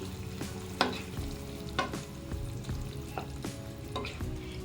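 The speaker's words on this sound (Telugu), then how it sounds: "మరలా ఇంకొకసారి చక్కగా కలుపుకోవాలి" A broad beans curry with tomato puree stirred in a pan, with periodic spatula scrapes about once a second over a soft, continuous simmering sizzle, close by.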